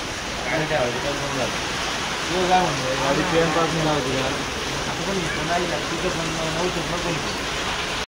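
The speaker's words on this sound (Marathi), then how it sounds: "3 दिन से कंटिन्यू बारिश हो रही है" Steady rain hisses continuously throughout on a Mumbai night, on its third day of nonstop rain, with a person's voice talking over it at moderate volume.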